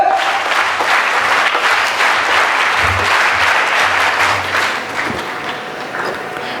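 A crowd at a school investiture ceremony applauds loudly and continuously for several seconds, a thick wash of clapping that tapers slightly near the end, with faint voices underneath.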